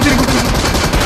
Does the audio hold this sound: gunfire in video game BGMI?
yes